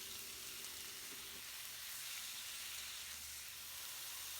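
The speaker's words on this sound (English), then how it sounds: "Stir to sear diced pork." Diced pork searing in canola oil in a hot wok gives off a steady, faint sizzle with a broad hiss, heard close and alone with no talk.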